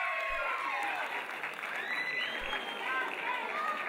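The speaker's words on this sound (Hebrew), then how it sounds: "מחיאות כפיים" Applause fills a dance festival hall in Eilat as a prize goes to a studio group, steady clapping from a crowd over an announcer's voice.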